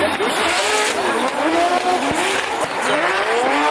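A Formula Drift car at a Texas event slides through a corner with loud, sustained tire squeal over a roaring engine, the pitch sweeping up and down as it drifts, close and intense.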